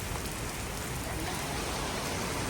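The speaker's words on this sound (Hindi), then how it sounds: "बहुत तेज बारिश पड़ रही है इस टाइम" Heavy rain pours down in a steady, dense hiss that stays loud and even throughout, with no voices.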